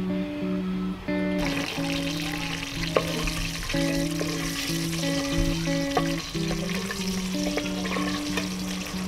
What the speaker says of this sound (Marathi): अर्धपेक्षा कमी उरलेले कांदे तळून घेते